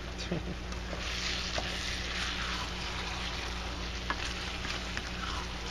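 Onions and mushrooms cook down in Marsala cooking wine in a dish, giving a steady, close sizzle and bubbling with a few faint clicks throughout.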